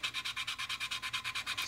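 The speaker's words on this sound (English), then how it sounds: "I'm basically taking a little bit of a sanding stick and just coming in here and" A sanding stick rubs back black CA glue on a 1/48 Zoukei-Mura F-4G Wild Weasel model kit in quick, even back-and-forth strokes, about a dozen rhythmic rasps, close and soft, alone without speech.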